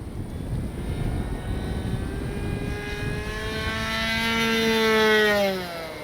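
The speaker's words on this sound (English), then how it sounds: "Let's get another speed pass into the wind" An RC Durafly Brewster F2A Buffalo V2 model warbird makes a speed pass into the wind, its electric motor whine rising and falling in pitch as it approaches, peaks loudly near the end, then recedes.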